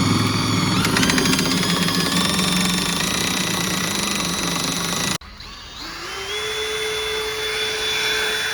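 A red Milwaukee power drill runs loud and continuous, driving a screw into thin metal on an E36 drift car, with a steady high whine that cuts out abruptly and then restarts at a lower, rising pitch.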